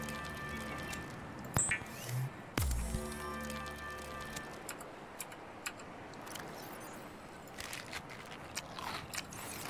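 Crunchy bites from eating bladderfish in the underwater game Subnautica, a few sharp crunch and chomp hits over a steady ambient game soundscape with soft tonal hums.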